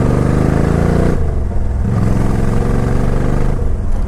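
A green and black Suzuki Intruder motorcycle engine revs loud and close, a steady low throaty drone that briefly dips around the middle and again near the end.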